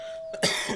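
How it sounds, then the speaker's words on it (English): A single close, raspy cough bursts out after a brief throat noise, loud and alone, from someone with a lingering cough while building a timber wolf habitat in Planet Zoo. "yes, I still have the coughing"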